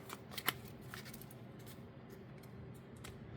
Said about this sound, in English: So shuffle up